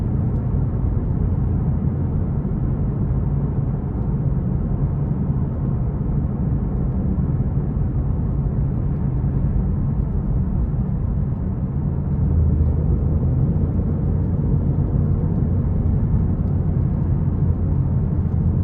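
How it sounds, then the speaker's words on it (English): A 2026 Ford Mustang GT Premium drives in normal mode, its engine and road noise forming a steady, loud, low rumble heard from inside the cabin, unbroken and without talk throughout. "But I'm gonna put in normal mode for a minute to see how it drives."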